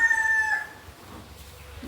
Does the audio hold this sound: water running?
no